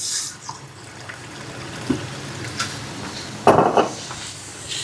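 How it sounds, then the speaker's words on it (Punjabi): Lukewarm water is poured into boiled potatoes being mashed for pav bhaji, making soft splashing and sloshing that peaks in one louder gush near the end, with light clinks from the pot. "ਇਹਨੂੰ ਪਾਣੀ ਪਾ ਕੇ ਥੋੜਾ ਥੋੜਾ ਔਰ ਇਹਨੂੰ ਆਪਾਂ ਮੈਸ਼ ਕਰੀ ਜਾਣਾ"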